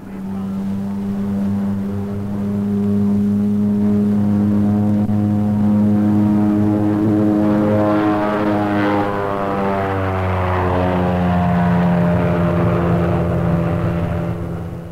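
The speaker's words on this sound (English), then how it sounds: "Half of the Armstrong Siddeley double mamber turboprop can be shut down for cruising economy." A 1950s turboprop aircraft powered by an Armstrong Siddeley Double Mamba flies past at the 1952 Farnborough Air Show, its loud droning engine tone swelling as it nears and then shifting pitch as it passes, steady throughout with no voices.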